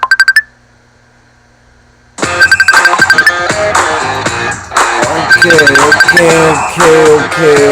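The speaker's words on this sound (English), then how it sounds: "My phone is going off. I hear it too." A mobile phone ringtone rings loudly and close by. A short tone is followed by a pause, then a busy, repeating electronic melody plays continuously under brief talk.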